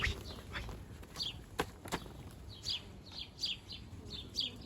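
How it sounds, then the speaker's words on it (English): A flock of birds crowds around a moored boat on the Scilly Isles, repeated sharp chirps and calls rising close by over a steady outdoor background, with occasional faint bumps and footsteps. "I've been overrun by birds."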